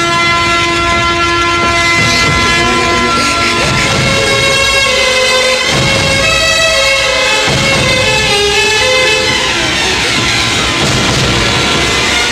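A train rushes past close by and loud, its horn sounding in long sustained blasts that shift in pitch over a continuous roar of wheels and cars.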